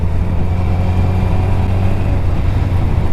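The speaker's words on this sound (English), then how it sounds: "I wanted to hear the cool engine noise" A motorcycle engine revs beneath a bridge on a summer evening ride, a loud, close, continuous drone that holds steady throughout with no voices.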